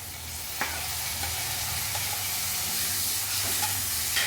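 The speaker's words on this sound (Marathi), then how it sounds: "आता आपण टोमॅटो टाकूया" Tomatoes frying in an onion tempering for pav bhaji, a steady close sizzle with hiss and a few clicks of stirring against the pan, no talking.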